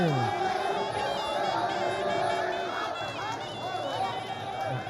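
Thai boxing crowd at a Muay Thai bout roars in a steady, dense wash of cheering and shouting, with a commentator talking over the din.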